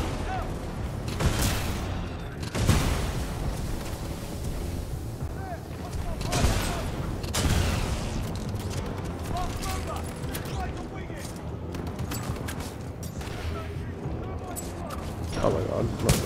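Automated turret firing in the shooter Titanfall 2, sustained bursts of gunfire with heavy booms and mechanical clatter, loud and continuous under a player talking.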